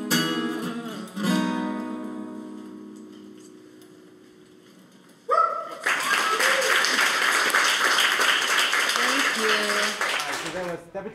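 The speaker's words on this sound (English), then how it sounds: "Round of applause once again" An audience breaks into loud sustained clapping and cheering after a live song performance in an office session, following the last sung notes and a quiet pause, with a voice talking over the applause.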